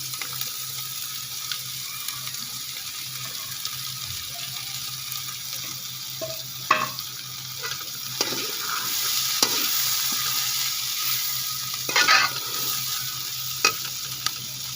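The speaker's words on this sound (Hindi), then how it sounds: "हल्की हल्की फ्राई करूँगी सब्जी को" Cabbage frying in a pan in a home kitchen, a steady sizzle with occasional scrapes and clatters of stirring, close and moderately loud, with no voices.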